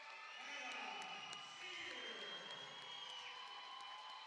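A crowd at a girls' high school basketball game applauds and cheers steadily for a senior player reaching 1,000 career points, with scattered whoops and an announcer talking over the ovation.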